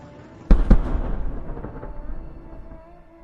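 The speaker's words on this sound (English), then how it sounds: "The Russian 122mm MLRS on a Kamaz 535 chassis was epically destroyed by a GMLRS missile." A GMLRS missile strike destroys a Russian 122mm MLRS on a Kamaz 535 truck chassis: a sudden heavy blast, a second quick burst just after, then a long rolling rumble that slowly fades.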